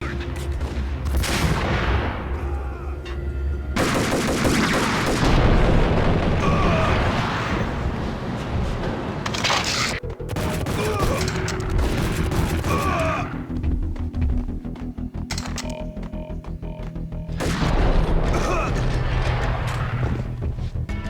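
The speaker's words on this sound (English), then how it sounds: "gunshots having a powerful sound and punch behind them every time you fire." Gunfire from the video game Max Payne, with heavy, punchy shots in repeated loud bursts, mixed with booming impacts and a dense game soundtrack over about twenty seconds.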